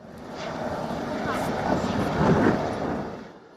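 A continuous whirring helicopter engine drone swells slightly and fades, with speech mixed in underneath, during a special forces search exercise.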